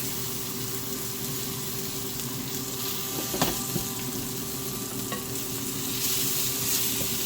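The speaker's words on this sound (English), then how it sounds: "we're gonna do a normal amount of garlic and get that browning" Garlic sizzles and browns in a pot, a steady broadband frying hiss with occasional stirring scrapes and a brief clink, close and even throughout with no talking.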